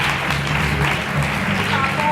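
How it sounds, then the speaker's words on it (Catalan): Applause from an audience after a magic trick on a stage show, a steady wash of clapping with murmuring and a voice mixed in underneath, lasting a couple of seconds. "Jo crec que este truc de màgia mereix un altre aplaudiment"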